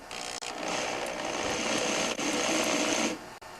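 A power drill fitted with a 3/16 bit bores through a snowblower's steel belly pan, giving a steady, loud, close whine that holds for about three seconds with brief dips at the start and near the middle.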